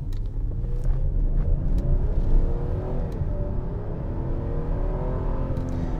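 A 2004 Lexus GS300 with a naturally aspirated engine, about 150,000 miles on it, accelerates hard with the throttle floored, giving a steady, loud engine rumble and rising rev tones that continue without pause inside the cabin.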